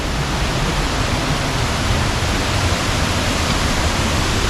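Waterfall in Kiambu, Kenya, heard from the top of the falls: a loud, steady, broadband roar of falling water that holds unbroken throughout, with no voices.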